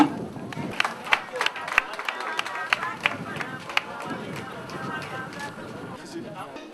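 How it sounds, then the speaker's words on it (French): A crowd applauds at an outdoor dedication of housing for disabled people in Zougoussi, with sharp scattered claps over a murmur of voices and background chatter. "On va continuer d'applaudir."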